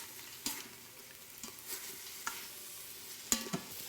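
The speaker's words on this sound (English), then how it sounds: "This is getting hot, I can hear it, so I'm going to go ahead and stir to get that butter melted down" Butter and olive oil sizzle quietly in a hot Instant Pot while a utensil stirs, with a few sharp scraping clicks and soft bursts of frying noise spread across the few seconds.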